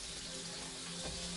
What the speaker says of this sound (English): so we'll wash the lemon